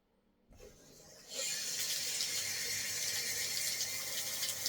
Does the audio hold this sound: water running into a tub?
yes